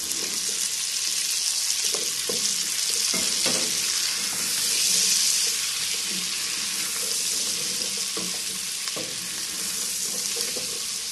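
Okra tipped into a pan with browned calabresa sausage, onion, garlic and bell pepper, giving a steady, loud broadband sizzle with a few soft utensil knocks and no talking.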